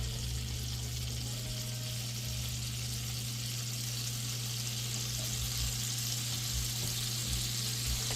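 About four tablespoons of butter melt in a pan with a low, even sizzle that runs steadily throughout, accompanied by a constant low hum.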